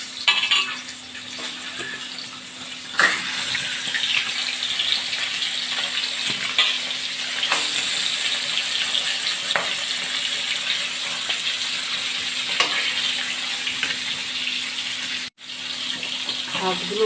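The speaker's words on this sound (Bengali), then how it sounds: "তেলটা গরম হয়ে গেছে, এখন মাছটাকে ছেড়ে দিচ্ছি।" Small sarpunti fish sizzling in hot oil in a wok, a steady close-up hiss of frying that holds for the whole stretch with brief crackles and one sharp dropout near the end.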